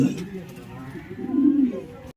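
Racing homer pigeons cooing in a loft, soft low throaty coos rising and swelling near the end, with a voice murmuring underneath.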